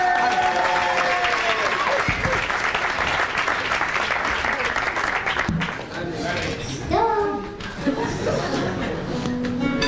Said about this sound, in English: Please give a huge round of applause for our very own and very special Ari Reuben.